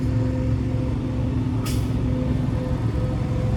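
A large truck, heard from a roadside, with a steady low engine drone and a brief hiss of air brakes near the middle; no one speaks.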